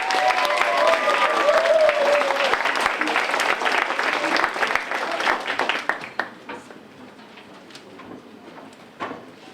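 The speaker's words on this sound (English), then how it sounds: "Give them a massive round of applause." Audience applause for performers at a school creative arts evening, dense and sustained clapping from a crowd for about six seconds, then thinning into scattered claps that trail off.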